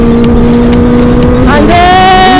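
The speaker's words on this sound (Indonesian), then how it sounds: "Tahan, RPM naik tinggi." A Yamaha Aerox scooter fitted with a swapped Honda CB400 engine revving hard up close, a loud droning engine tone that holds steady, then climbs sharply in pitch as the throttle opens.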